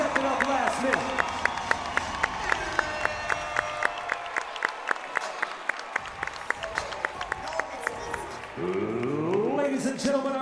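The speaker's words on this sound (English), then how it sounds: "So a big round of applause for that man stepping up last minute." Crowd applause and cheering at a cage fight event, steady clapping from the arena audience under an announcer's amplified voice, with rhythmic claps and louder crowd noise near the end.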